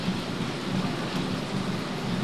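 Steady rain pours down during a rainy day that stops outdoor work. The hiss is dense and continuous, with a low rumble underneath and no voices.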